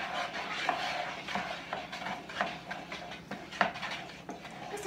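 A spoon stirs a homemade dish soap mixture in a container, giving a steady series of soft scraping, clinking strokes at close range, with no voices.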